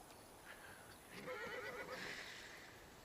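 A horse whinnies at a ranch where a rider is mounting with reins, saddle horn and stirrup, a fairly faint, drawn-out neigh rising midway through and fading into background noise, with no talk.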